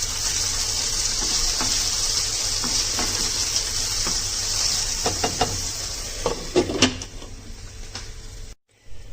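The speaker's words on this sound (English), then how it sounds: "I'm still cooking the potatoes" Onions and potatoes frying in a pan for poha give a steady bright sizzle, broken by scraping and clinking spoon strokes as they are stirred, with a short clatter near the end.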